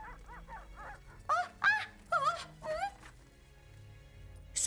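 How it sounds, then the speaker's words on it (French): Hunting dogs in an animated film give a quick run of yips and then several louder, pitched barks and bays, spaced irregularly over a faint musical background with no speech. "J'entends les chiens."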